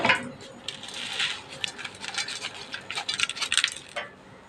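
Roasted gram and other dry ingredients for an aval mixture snack tipped onto a plate, a rush of light rattling and clinking as small hard pieces spill and scatter, close and fairly soft.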